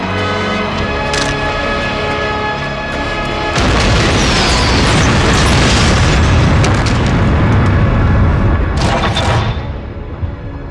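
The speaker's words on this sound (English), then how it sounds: "There's a bomb." A bomb blast in a 2004 action film, a huge roaring detonation that erupts after a few seconds of tense low rumble and rolls on loudly, with debris crackle and a second burst near the end.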